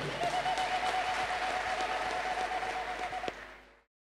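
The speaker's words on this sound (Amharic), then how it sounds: "እስቲ አጨብጭቡ በደንብ" A church congregation applauds with dense, steady clapping for about three seconds, then the sound fades quickly to silence.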